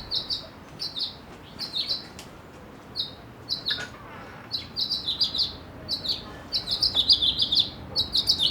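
A mix of songbirds recorded at Discovery Park, with many bright chirps and short trilled phrases repeating in quick bursts, growing denser and busier toward the end, close and clear over a soft outdoor background.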